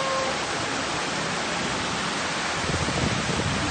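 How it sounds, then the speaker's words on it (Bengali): A dense, steady roar of heavy rain during a storm in Dhaka fills the whole stretch with no pauses and no voices. "ও মাই গড কত বৃষ্টি"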